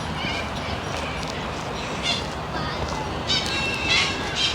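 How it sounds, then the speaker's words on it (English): Galahs and cockatoos squawk in a riverside oasis in Parramatta, Sydney, harsh repeated calls rising over steady ambient noise while a person talks. "There's galahs squawking off and cockatoos"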